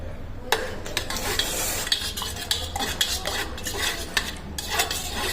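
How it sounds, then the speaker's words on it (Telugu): Jaggery mixture being stirred in a pan until it melts, a spoon scraping the pan in steady repeated strokes over a low, continuous sizzle, close and alone with no voices. "ఇప్పుడైతే బెల్లం కరిగేదాకా మొత్తం కలుపుకోవాలి."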